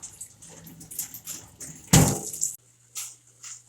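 Lemongrass stalks rinsed under running tap water, a short splashing burst of water over the leaves with softer trickles and drips before and after, close and moderately loud.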